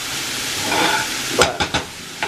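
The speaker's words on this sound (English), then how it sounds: "now it's kind of like sauteing the onions" Onions sauteing in oil in a pan while stuffed shells are being prepared: a steady broadband sizzle with a few short stirring scrapes near the end.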